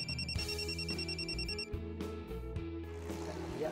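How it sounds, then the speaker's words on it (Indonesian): A telephone rings with a repeating electronic trill that is steady and fairly loud, sounding in regular bursts over a low, constant background. "Iya, aku boleh angkat telepon sekarang."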